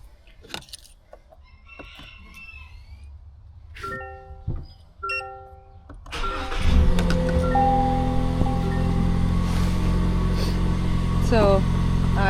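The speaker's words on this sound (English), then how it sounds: "So let me go ahead and turn on the truck for you." 4th generation Toyota Tacoma truck: keys jingle and chimes ding, then the engine cranks and catches into a steady, close, low idle, with someone speaking briefly beforehand.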